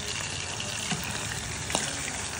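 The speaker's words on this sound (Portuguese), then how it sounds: "agora eu tô fritando o queijo, vou fazer o ovo em cima" Cheese sizzles in a frying pan before an egg is added on top, a steady hissing, crackling fry close by, with a couple of faint clicks and no talk.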